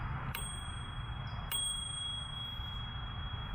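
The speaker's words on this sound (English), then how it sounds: "I got this bell. I really like this bell a lot. It's a manual bell." A manual bicycle bell mounted on a Lectric XP e-bike rings twice, giving two short bright dings that each leave a sustained ringing tone, close up over faint background hiss.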